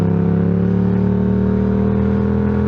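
A loud Yamaha motorcycle fitted with an aftermarket exhaust pipe drones steadily up close, engine note holding a strong even pitch throughout with no talk over it.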